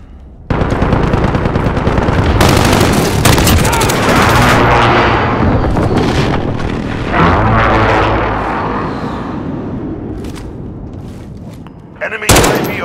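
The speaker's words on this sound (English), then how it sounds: "Precision airstrike on the way." Call of Duty Modern Warfare (2019) multiplayer precision airstrike: loud, dense bursts of automatic gunfire and booming explosions rolling continuously for about ten seconds, tapering off, then a final sharp blast near the end.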